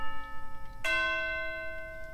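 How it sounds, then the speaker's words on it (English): Orchestral chimes strike a single bright, ringing tonic note that sustains and slowly decays over a soft sustained chord in a composed video-game style piece, no voices. "Orchestral chimes, yeah. So those just hit the kind of tonic of chords at times"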